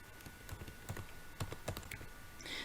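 Fingers type on a computer keyboard in an office setting, making quick, uneven close-up key clicks in short bursts, with a slightly louder clatter near the end.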